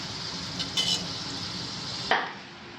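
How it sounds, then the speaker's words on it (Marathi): Modak dumplings deep-frying in oil over a low gas flame give a steady, close sizzling hiss, with a brief utensil clink near the end. "मोदक तळून घ्यायचे। गॅस जेवढा बारीक असेल तेवढे खमंग तळले जातात।"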